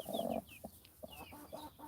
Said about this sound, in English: I've got this broody chicken. She's trying to hatch some eggs.